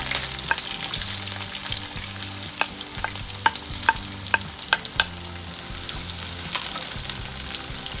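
Fennel seeds, sliced onion and green chillies fry in oil in a pan for a vegetable curry, with a continuous sizzle and sharp utensil taps as the mixture is stirred.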